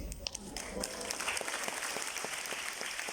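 A keynote audience claps in a steady, dense wash of applause that carries on throughout, moderately quiet and heard from within the room.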